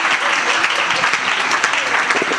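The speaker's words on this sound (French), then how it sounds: "Clap for me." An audience applauds steadily, dense hand clapping close and loud throughout, with a few cheers mixed in.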